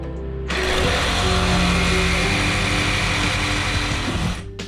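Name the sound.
reciprocating saw (Sawzall) cutting a brace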